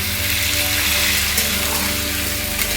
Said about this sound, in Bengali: এবার আস্তে আস্তে ভালো করে এটাকে লাল লাল করে ভাজতে হবে